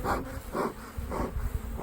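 Honey bees in an open hive crowded wall to wall hum in a close, continuous buzz that swells in soft pulses, with no talking.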